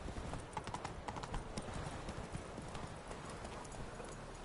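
Hooves of Roach, the horse in The Witcher 3, clip-clop in a quick steady rhythm at close range, with a soft game ambience running underneath.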